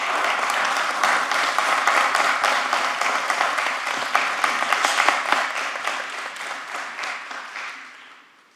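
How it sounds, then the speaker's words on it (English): Sustained applause fills a commission meeting room, a dense crowd of clapping that stays steady and loud for several seconds before tapering off at the end. "If we can get an initial round of applause, that would be appreciated."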